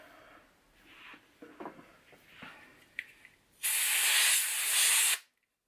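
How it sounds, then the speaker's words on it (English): Canned air sprays in a loud, steady hiss for about a second and a half while cleaning a CPU, following quieter rustling and handling noises, then cuts off abruptly to silence. "Right, canned air."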